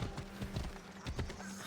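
Warhorse hooves galloping in Assassin's Creed Odyssey, a steady rhythmic clip-clop of repeated thudding hoofbeats, close and fairly loud, with no talk over it.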